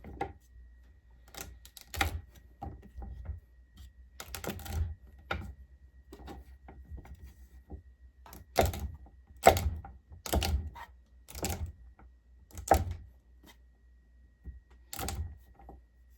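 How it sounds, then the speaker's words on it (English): A knife chops frozen butter into small pieces for a mealy pie crust, giving a close series of sharp, irregular cutting knocks with short pauses between them and no talking. "I'm using frozen butter that I'm just going to cut up into smaller pieces."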